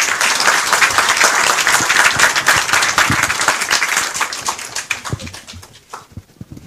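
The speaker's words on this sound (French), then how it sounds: "Des applaudissements nourris pour ce bilan élogieux" Sustained applause from an audience after a closing speech at a Senegalese ceremony, a dense wash of many clapping hands that holds steady and then thins out toward the end.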